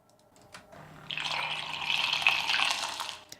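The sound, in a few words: milk frother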